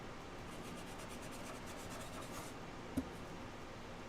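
Chalk scratches across an Arteza 18x24 magnetic chalkboard in a faint, steady, close-up scraping, broken by one brief tap near the end.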